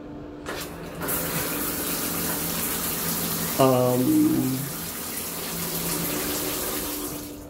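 A shower runs from the tap in an Airbnb bathroom, a steady hiss of flowing water that continues throughout, with a brief louder gurgling surge near the middle.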